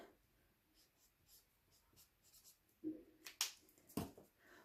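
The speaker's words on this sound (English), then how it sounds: "And so I'll write that down here for you." A pen scratches across paper while a measurement is written down during a craft project, with faint strokes at first, then a few louder scribbles and taps near the end.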